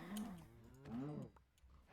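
A cow lowing twice in a Minecraft-style game world, two drawn-out moos close by and moderately loud, followed by quieter background sounds with no talk.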